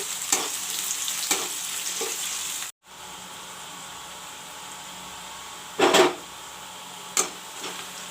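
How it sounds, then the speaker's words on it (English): Onions frying in a pan for drumstick curry make a constant bright sizzle, close and fairly loud. Occasional stirring clatters and scrapes break through it, with one brief cut to near silence. "I will let the onions fry"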